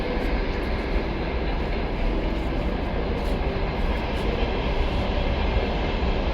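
A train passes below a hillside cemetery in Kyiv, its loud, steady rumble and rattle filling the air without break.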